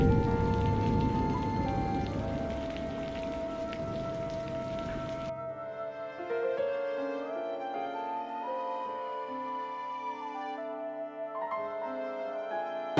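Cartoon rain pours steadily as a dense hiss for about five seconds, then gives way to soft tonal music with a few gentle notes.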